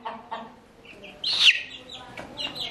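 A newly hatched chicken chick from an incubator chirps and peeps in a few short, close calls, with one louder, higher cheep in the middle.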